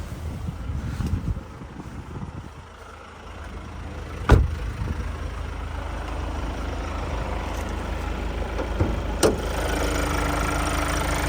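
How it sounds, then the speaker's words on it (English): A 2020 Kia Carnival Platinum idling with the bonnet open, a steady low engine rumble under a broad hiss, with a couple of sharp knocks or taps standing out. "have a look underneath the bonnet while she's running"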